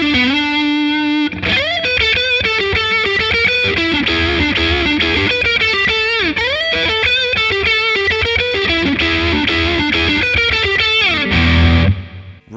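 Electric guitar on a single-coil pickup played through a Wampler Sovereign distortion pedal in boost mode, loud, thick and saturated, with sustained chords and melodic lead lines ringing continuously before stopping abruptly near the end.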